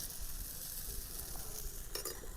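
Dosa batter sizzles and fries on a hot pan greased with oil and rubbed with onion, outdoors on a farm, giving a steady close crackle with a brief scraping stir near the end.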